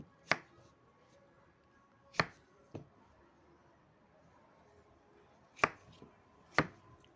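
Knife cutting pumpkin into pieces on a board, five sharp separate chops at uneven intervals, close and clear over a quiet background.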